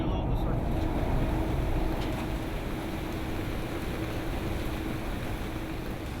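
Exhaust fans in a mine roughly 4,600 feet underground, a loud constant low roar with a steady hum.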